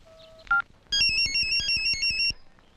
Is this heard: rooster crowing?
no